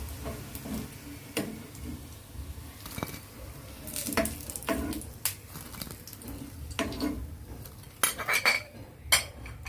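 Salted potatoes frying in hot oil, reusing the oil from raw banana kofta, with scattered clinks and taps of a utensil against the pan over a low, steady sizzle, close and irregular.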